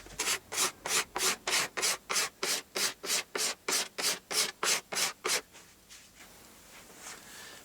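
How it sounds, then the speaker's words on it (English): Old wax is scraped off a snowboard base in about fourteen quick, evenly spaced rasping strokes, close and loud, before the scraping stops and leaves only quiet room noise. "you carry on scraping your board"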